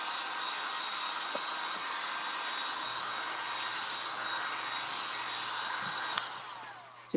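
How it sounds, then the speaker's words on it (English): A hair dryer or heat gun blows steadily to dry a cerusing wax limewash finish on wood, a continuous even airy whoosh held for several seconds before a brief click near the end. "So I'm going to hit this real quick with a hair dryer or heat gun."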